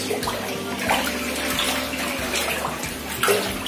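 Water runs and splashes steadily through a flooded bathroom during a storm, a continuous broadband wash with slight surges and no talking.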